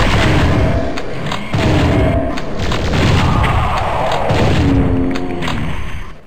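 Loud, punchy shotgun booms from Doom 64, repeating in several heavy blasts over a stretch of game action, with monster growls and effects layered between shots.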